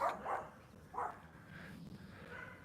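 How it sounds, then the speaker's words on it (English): A small dog barks outdoors on a morning, giving a few faint, short yaps spaced apart with quiet gaps between them and no talking. "What are you barking at?"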